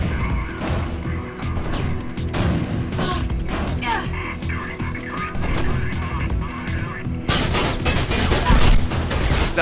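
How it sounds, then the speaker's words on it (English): Enemy gunfire aimed at the player in Mirror's Edge on PC, a continuous loud barrage of shots and impacts with crashing game effects, building to a denser burst near the end, with a voice talking briefly over it. "Stop shooting me!"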